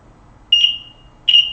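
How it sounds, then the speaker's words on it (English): Two short, loud electronic buzzer tones, each lasting about a quarter second and spaced under a second apart, sound from a handmade cardboard Operation game being tested, with faint background hiss between them. "Let me just make sure my buzzer seems to work."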